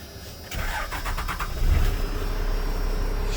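Cummins diesel engine in a 4x4 manual pickup cranks with a rapid starter whir, catches, and settles into a loud, rumbling idle up close.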